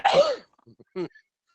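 A single sharp, loud sneeze right at the start from someone getting over a cold, followed by a few faint breathy sounds and a short vocal noise after a pause.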